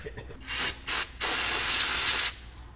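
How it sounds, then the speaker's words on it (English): An aerosol spray can hisses during a Jeep JK skid plate install, two short bursts followed by a long continuous spray, close and loud. "Spray this in, like that way."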